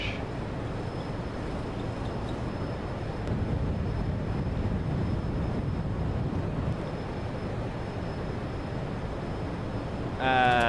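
An F-14 Tomcat jet in a flight simulator game is pushed to full throttle for a carrier takeoff, giving a steady, loud, roaring engine rumble with wind-like noise that swells briefly near the end.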